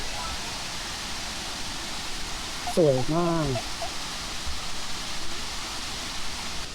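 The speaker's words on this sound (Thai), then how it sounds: "ชั้นนี้เรียกว่าน้ำตกชัดแก้วนะครับ" The Chat Kaeo tier of a waterfall in Kanchanaburi, Thailand, gives a steady, even rush of falling water throughout. A voice speaks briefly over it midway.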